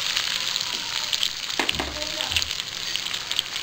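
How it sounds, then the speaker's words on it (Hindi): Onions frying in hot oil with cumin and carom seeds, a soft continuous sizzle with brief stirring bumps, fairly quiet and close. "प्याज को थोड़ा सॉफ्ट होने तक भून लेंगे।"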